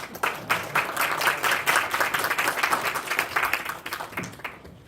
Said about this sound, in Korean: 큰 박수 보내주십시오